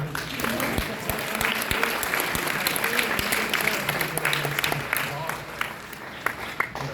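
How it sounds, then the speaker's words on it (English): Steady applause from a convention panel audience fills the room, dense clapping that carries on throughout with some voices mixed in. "I know we keep applauding"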